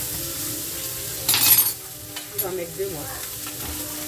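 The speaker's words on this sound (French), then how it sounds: "on laisse bien caraméliser l'oignon" Onion caramelizes in a pan with a low steady sizzle, broken by a brief louder hiss and a few stirring scrapes, while a voice speaks over it.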